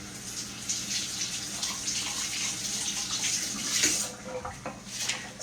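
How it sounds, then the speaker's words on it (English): Tap water runs steadily into a sink while an onion is rinsed under it in a home kitchen, a close, soft, continuous splashing hiss. "Let me rinse this off."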